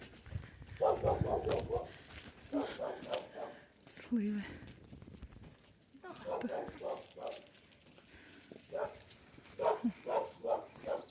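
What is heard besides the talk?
dogs barking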